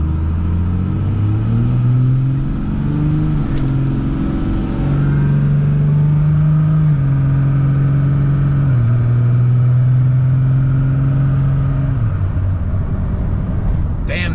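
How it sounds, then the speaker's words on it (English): A 2nd gen Cummins diesel truck on new smaller wheels is floored from a roll, its engine droning loud and steady with pitch climbing and shifting in stages, holding at full throttle for the whole stretch. "I'm gonna floor it right now and see if I can get the tires to spin."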